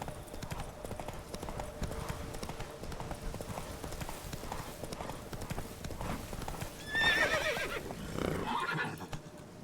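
Roach, the horse from the video game Witcher 3, clip-clops along in steady hoofbeats, then lets out a loud whinny near the end over game ambience, with a voice briefly talking.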